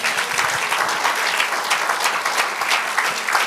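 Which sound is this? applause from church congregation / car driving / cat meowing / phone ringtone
applause from church congregation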